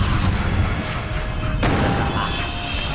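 A gun fires in Shadows of the Damned, one sharp crack landing midway through a dense, booming game background.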